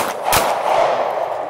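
Handgun shots at an outdoor close retention shooting drill: one sharp, loud report near the start, with a noisy outdoor wash continuing after it.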